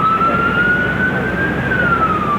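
Ambulance sirens wail continuously on a New York City street during a mass-casualty emergency, a steady rising and falling tone held loud and close over a bed of traffic rumble.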